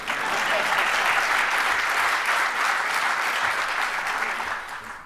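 An audience breaks into sustained, dense applause at a mayoral poverty initiative launch in Chicago, a loud even wash of clapping that holds steady and eases slightly near the end.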